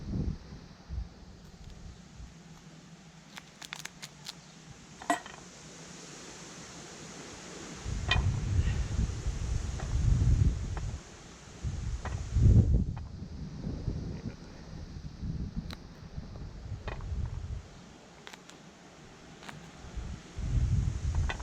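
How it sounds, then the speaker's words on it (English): Blustery wind on a windy day buffets the microphone in uneven gusts outdoors by a homemade Trangia-style camp cooker, swelling louder in the middle and dropping back, with a low rumbling roar and no voices. "It's actually a really windy day today"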